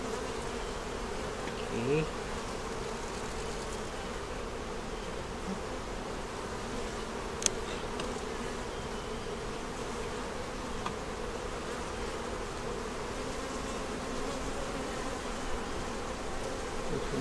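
Honey bees buzz steadily around an open beehive as frames are pulled for honey and checked for the queen and larvae, a continuous near drone with a brief spoken word.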